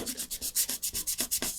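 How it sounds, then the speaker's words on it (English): Close sandpaper rubbing on a cracked model rocket fin repaired with epoxy, a fast, even back-and-forth rasp of about a dozen strokes with no talk. "So what I'll do is I'll sand that down."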